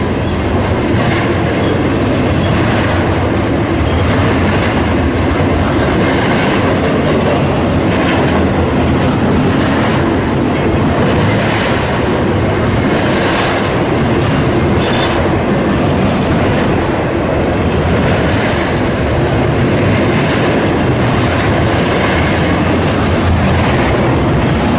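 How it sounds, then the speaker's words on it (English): A Norfolk Southern train rolls past Elkhart station in Indiana, a loud continuous roar of railcars with clickety-clack wheel rhythm and occasional squeal, close by and steady throughout with no talk. "This is the third train that has gone by since I got here"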